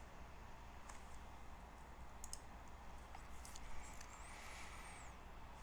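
A computer mouse clicks an add button in steel tower design software, giving a few faint, sparse clicks spread over a low steady background hiss.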